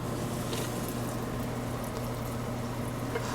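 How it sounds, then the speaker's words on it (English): Flour-dredged beef cheeks searing in a hot pan give off a steady, even sizzle throughout, constant and moderately quiet with no breaks. "Tap the excess of flour and sear them."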